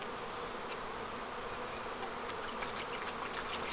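Honeybees buzzing thickly around a hive in fall during sugar-syrup feeding, a continuous close swarm hum with individual bees darting past the microphone, no talking.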